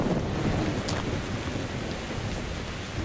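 Steady heavy rain with rumbling thunder fills a Metro Exodus thunderstorm, a dense wash of downpour holding even and loud throughout, with no voices.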